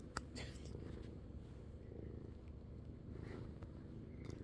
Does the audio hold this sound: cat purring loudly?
yes